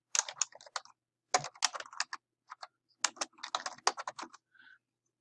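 A project title being typed on a computer keyboard, with quick clusters of crisp key clicks broken by short pauses, close and alone.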